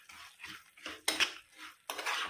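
Peanuts and roasted sesame seeds being stirred together in a pan, giving a few bursts of scraping and clinking from a spoon against metal, close and fairly loud, with short pauses between strokes.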